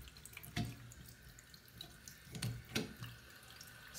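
Water keeps running from a bathtub and shower fixture with a loose handle that will not shut off, a quiet steady flow with occasional soft splashes.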